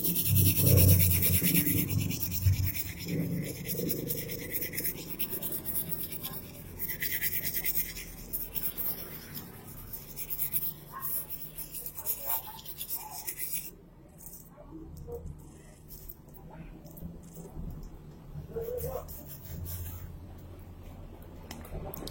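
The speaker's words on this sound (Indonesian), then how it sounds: "ini setelah kita bersihkan menggunakan sikat baja, hasilnya lebih sempurna" Steel wire brush scrubbing toner off a printed circuit board, a close, loud, raspy back-and-forth scratching that comes in bursts, heavier early on and lighter later.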